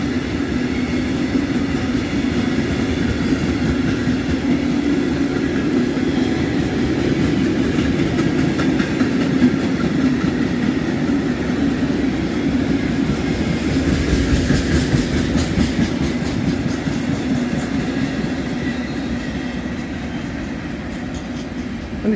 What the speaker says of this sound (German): der Zug von der Wertheilbahn ist eine 185 von MRCE mit ihrem Kesselzug.